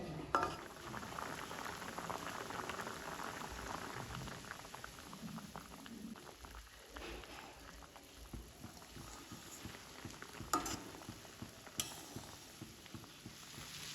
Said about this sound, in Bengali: চিনির রসের সাথে সিদ্ধ করা এই আমলকিটা আমি 5 থেকে 7 মিনিট এইভাবে ফোটাবো।